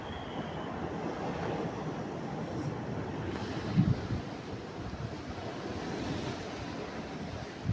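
Steady wind roars at the seashore during a fishing trip off Kerala, a dense, continuous rush with the wash of surf beneath it and a few brief gusts buffeting the microphone.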